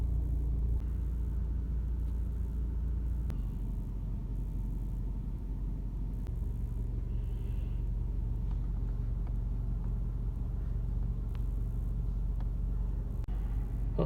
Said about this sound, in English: I gotta drive into the town.